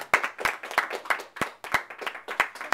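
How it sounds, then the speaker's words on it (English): Applause from a small audience during a talk on selling table knives, a few people clapping in a sparse, uneven rhythm, fairly quiet and close. "can we give her a round of applause"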